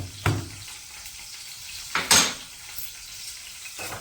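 Mustard seeds and cumin crackle in hot oil in a pan, with a few sharp bursts of popping and sizzling separated by quieter gaps and light clinks of utensils.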